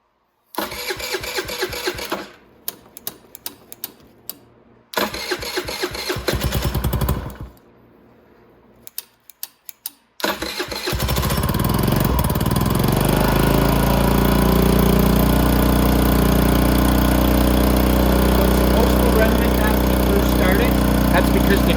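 A 50cc automatic motorcycle with its choke on sputters through a few start attempts between brief pauses, then catches and settles into a loud, steady, buzzing run.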